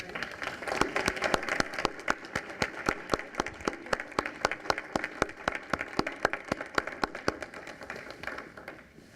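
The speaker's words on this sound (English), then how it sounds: "I'd like the teachers to stand and us to thank them with our applause" Audience at a Trinity Lutheran School parent meeting applauds the teachers, a dense, steady clapping from a modest crowd with distinct individual claps, continuing throughout at even strength.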